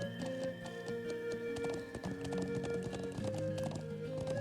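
Horse hooves clip-clop at a steady trot during riding in the video game Trails of Cold Steel, close and continuous over sustained game music.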